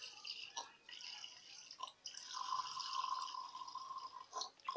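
Diluted rose water is poured from a glass onto two large spoonfuls of starch for a face mask: faint drips at first, then a steady, soft trickle of liquid for a couple of seconds, quiet and close, with no speech.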